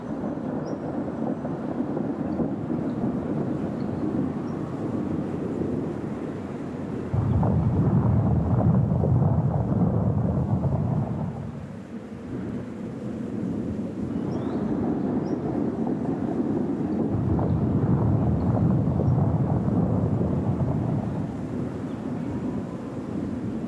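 Thunderstorm over the high Andean Altiplano plain: a deep, sustained rumble of distant thunder swells and fades in long waves under a steady wash of wind, with no voices.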